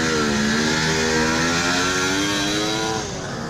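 A fully restored 1972 Kawasaki 750 H2 motorcycle runs at a vintage bike gathering, its engine droning loud and close with a steady buzzing note that shifts slightly in pitch before easing off a little at the end.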